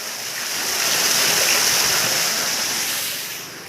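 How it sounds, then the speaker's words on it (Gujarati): A solar-powered farm water pump discharging water in a field, producing a loud, continuous rushing gush that swells and then slowly eases off. "અત્યારે એટલું એટલું પાણી કાઢે છે"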